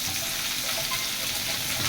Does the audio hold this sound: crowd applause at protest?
no